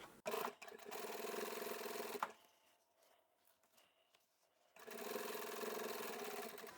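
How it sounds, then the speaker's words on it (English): A sewing machine stitches fabric for a large boxy bag, running in two close, steady bursts with a short quiet pause between them. "I'm going to sew down here. I'll go back, go forward"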